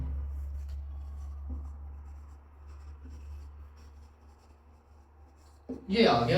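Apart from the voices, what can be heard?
writing on a board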